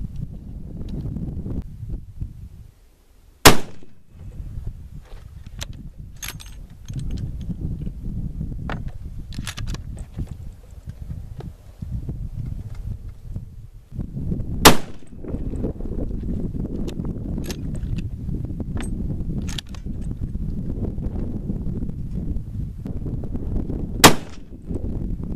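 Weatherby Vanguard rifle in 6.5-300 firing outdoors: three or four loud, sharp isolated shots spaced several seconds apart, over steady wind and rumbling background noise.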